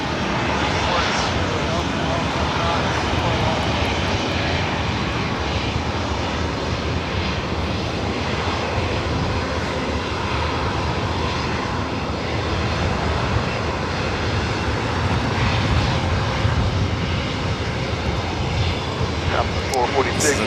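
A Lufthansa Boeing 747 taking off at LAX, its engines a loud continuous broadband roar that holds steady throughout, with a voice talking over it.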